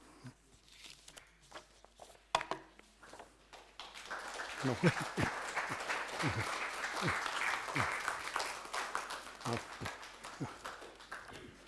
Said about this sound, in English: very worthy of a round of applause